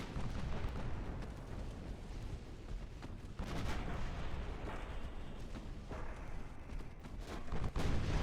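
Naval guns in the warship battle game Ultimate Admiral Dreadnoughts fire in heavy, rumbling volleys, with booms overlapping into a dense, continuous roar of distant fleet gunfire.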